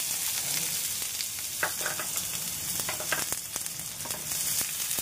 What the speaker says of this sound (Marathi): तेल चांगलं तापलेलं आहे, मी आता कांदा घालते।